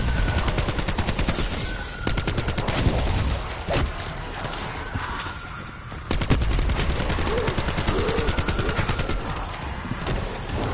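The Death Machine, a rapid-fire machine gun in Call of Duty Black Ops 4 Zombies, fires in a loud, dense stream of shots for the whole stretch, broken only by brief lulls, with no talk over it.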